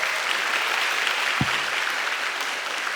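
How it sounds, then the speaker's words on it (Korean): An audience claps loudly and steadily throughout the room at a talk concert, a dense, sustained wash of applause with one brief low thump near the middle. "여러분 이 타이밍에는 크게 박수가 한번 나와야 합니다."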